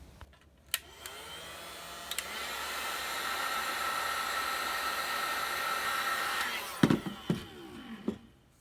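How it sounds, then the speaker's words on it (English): Heat gun blowing on a small plastic piece to melt it for shaping, a steady close whooshing roar running several seconds, bracketed by sharp clicks and clatter of handling before and after. "I'm going to use a heat gun, and I'm going to melt this section here so I can turn it out"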